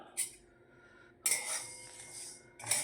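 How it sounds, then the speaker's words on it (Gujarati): A metal spatula stirs and scrapes whole spices (nutmeg, cinnamon, cloves and black pepper for tea masala) roasting in a pan over low heat, giving three distinct clinking scrapes separated by quiet pauses. "હવે હલાવો એને તાવીટાથી ધીમા તાપી"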